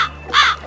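A crow gives a single loud, close caw, rising and harsh, over a steady low background hum.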